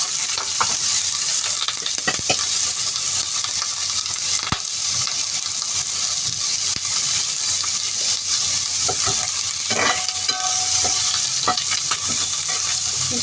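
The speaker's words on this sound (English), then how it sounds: "Fry the garlic with the carrot and baby corn." Garlic, carrot and baby corn stir-frying in a pan, a steady close sizzle with occasional scrapes and clinks of stirring throughout.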